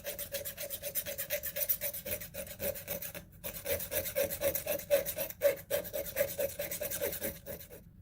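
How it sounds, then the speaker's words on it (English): A metal file rasps in quick, even back-and-forth strokes across a soldered wire jewelry frame, loud and close, with a brief pause partway through. "we're all filed down and ready to polish"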